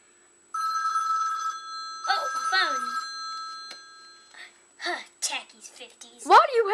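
An old telephone with an antenna rings with a bright, bell-like electronic trill in two bursts, followed by voices talking and exclaiming nearby.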